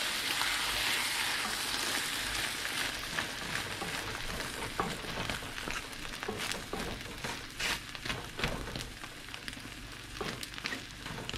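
A bitter melon omelette fries in a pan with a continuous close sizzle and crackle, scattered sharp pops and scraping stirs running throughout.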